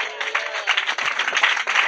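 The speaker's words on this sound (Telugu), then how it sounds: "చప్పట్లు కొడుతూ స్తోత్రం చెప్పండి." A church congregation claps in praise during a worship gathering: a dense, loud burst of many hands clapping together, steady and continuous for a couple of seconds.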